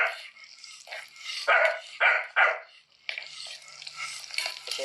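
A dog barks repeatedly at close range, several loud yaps in quick succession over the sizzling of meat sautéing in a pan.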